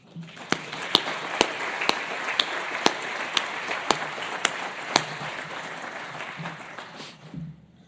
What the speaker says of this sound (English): Let's give the Asphalt Institute Foundation one final round of applause.